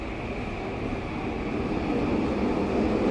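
A train rolls past in East Vancouver as a steady, loud rumble with broadband noise, growing slightly louder toward the end and continuing throughout with no pauses.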